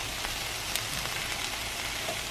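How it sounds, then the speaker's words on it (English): Freshly baked salmon and sautéed shrimp sizzle steadily just out of the heat, a close, continuous crackling hiss with faint pops and no talking. "Do you guys hear the sizzle?"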